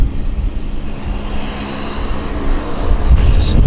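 A WestJet passenger airplane at Vancouver YVR airport, bound for Cabo, gives a steady, distant engine roar that swells slightly louder near the end, with no talking.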